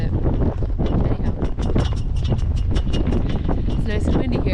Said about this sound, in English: it's nice and windy here.